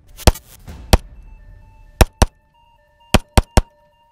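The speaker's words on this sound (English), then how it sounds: "Let's see what it has, and let's shoot at some targets downrange." A 1911 pistol chambered in .45 ACP fires seven sharp, loud gunshots at targets downrange, spaced irregularly in small groups with brief echoing tails and silence between them.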